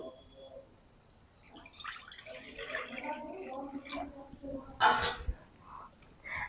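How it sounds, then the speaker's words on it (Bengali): Water pours into a wok set up for steaming bhapa pitha, a faint gurgling splash that comes in uneven bursts, with a stronger gush near the end, against a quiet kitchen. "কড়াই দিয়ে দিয়েছি পানি"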